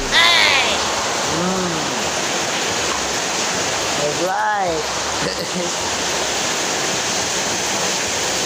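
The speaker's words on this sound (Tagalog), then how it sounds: "Baha na talaga. Kahit sa labas ng gate, baha na." Floodwater rushes around a house near the sea in Naujan, Oriental Mindoro, a loud, continuous watery roar close by, with a person speaking briefly over it.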